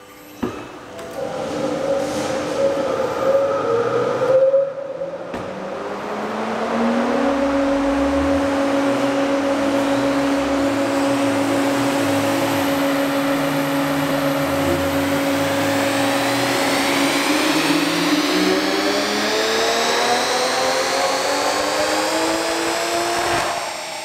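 Toyota GR Supra with a big stock-frame turbo running on E85/E50 fuel, the engine revving loudly with a steady tone, a brief drop, then a long sustained high-load pull as the pitch climbs steadily toward the end.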